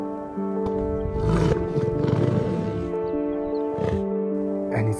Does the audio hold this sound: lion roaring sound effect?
yes